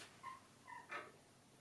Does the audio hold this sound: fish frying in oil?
no